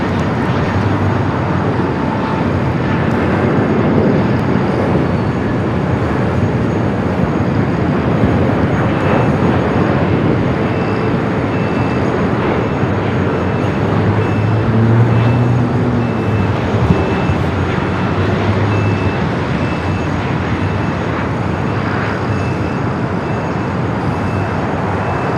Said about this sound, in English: we do have Sichuan, the A350-900 coming from Chengdu, flight 3837 in the Panda Route livery